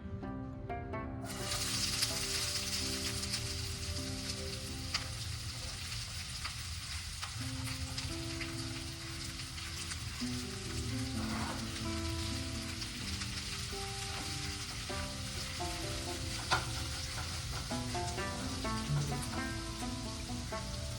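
Onion frying in a pan for a Kolhapuri tambda-pandhra rassa, a steady, even sizzle and hiss that continues at a soft level for the whole stretch, with faint stirring and no speech.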